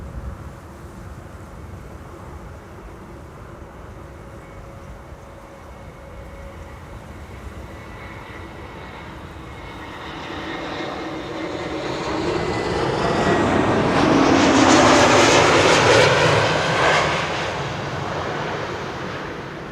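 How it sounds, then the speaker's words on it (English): A JetBlue airliner lands at Schiphol Airport, its jet roar rising from a distant low rumble to a loud broad whoosh as it passes, then easing off, heard alone without talk. "Means that JetBlue is going to land first before Queenie is going to cross the runway."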